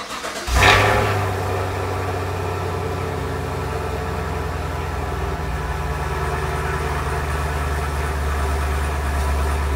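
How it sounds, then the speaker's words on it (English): A Chevrolet Camaro SS muscle car with dual exhaust cold-starts: the engine cranks and fires with a sharp burst, then settles into a steady, loud, rumbling idle that continues close by. "thought I'd hit y'all with a little cold start"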